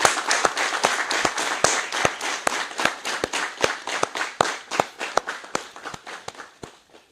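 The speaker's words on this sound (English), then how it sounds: "Let's all stand up and clap our hands and sincerely thank" An audience at a Covid-19 press briefing stands and claps in unison: steady, sharp, evenly spaced claps, roughly three per second, loud and close, with no talking over them.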